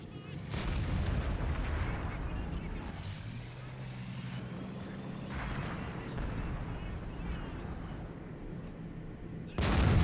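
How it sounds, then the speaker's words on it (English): Mortar artillery fire in the World of Tanks video game, a heavy low rumbling boom that rolls on and off across the clip, with a sharp blast at the end and someone talking over it. "Oh, mortar started too."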